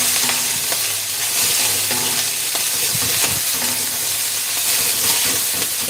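Rice tipped into a hot pan crackles and sizzles loudly and steadily, with stirring scrapes and bursts of hissing throughout and no talk.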